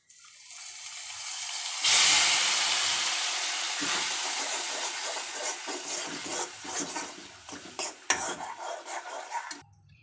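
Maggi noodles tossed and stirred in a pan, starting with a loud sizzling burst, then settling into a steady sizzle broken by scraping and clinking of a utensil against the pan.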